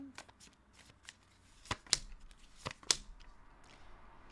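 Tarot cards are shuffled by hand, with soft riffling and sharp slaps of the deck in an irregular rhythm, close and fairly quiet against a hushed room.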